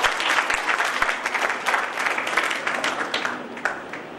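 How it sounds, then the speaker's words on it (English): Sustained audience applause for guest professors at an academic conference, many hands clapping in a dense, lively burst that carries on steadily before gently tapering. "So please give them a huge round of applause."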